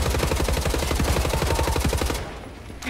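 Rapid, loud gunfire rattles in Wolfenstein: The New Order, a dense automatic burst lasting about two seconds before cutting off abruptly into quieter game ambience.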